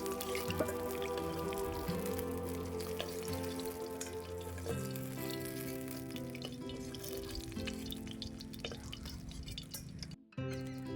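Oil sizzles and spatters steadily as snakehead fish fries, with a continuous crackling hiss and a low hum beneath, briefly cutting out near the end.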